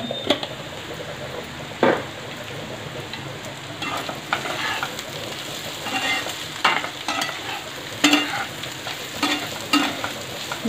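A spoon stirs prawn curry masala with chili powder in a pan, scraping and clattering in irregular strokes over a steady low sizzle, with no one talking.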